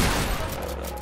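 A burst of gunfire in the Fortnite video game, a loud dense crack and rumble that fills the moment and then tails off.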